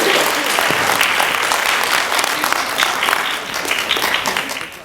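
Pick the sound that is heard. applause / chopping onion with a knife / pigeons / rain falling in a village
applause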